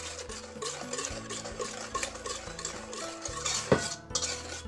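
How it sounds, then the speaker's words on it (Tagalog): A spoon scrapes and clinks around a bowl while stirring homemade blueberry muffin batter with sugar, a quick irregular rhythm of close, fairly quiet strokes with one sharper knock. "At i-mix lang po natin ulit."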